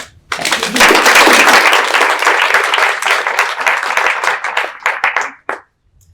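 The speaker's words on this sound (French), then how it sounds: "On peut applaudir." An audience at a French entrepreneurship award final claps loudly for a pitch, a dense burst of applause that holds steady, thins into scattered claps and stops abruptly near the end.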